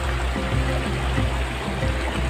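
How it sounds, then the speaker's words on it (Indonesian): River water babbles and rushes steadily near a waterfall at Renah Sungai Besar, a dense, continuous flow filling the scene with no voices. "kami sudah dikejutkan oleh suara air-air gemericik air di sini"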